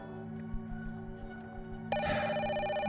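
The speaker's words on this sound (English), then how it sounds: "The old phone on the desk suddenly rang." A quiet room tone, then a loud, sustained bell-like ringing bursts in about two-thirds through and continues steadily to the end.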